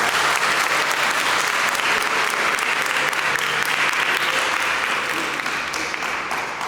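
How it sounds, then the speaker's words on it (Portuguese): A church congregation applauding loudly and continuously, a dense, sustained wash of clapping that fades slightly toward the end. "Dê uma grande salva de palmas ao Senhor nosso Deus."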